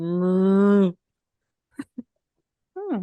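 A person's voice imitates a drawn-out moose or cow moo, one long, loud, close low call, followed by a couple of brief clicks and the start of another low vocal sound.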